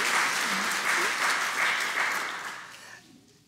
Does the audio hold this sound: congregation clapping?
yes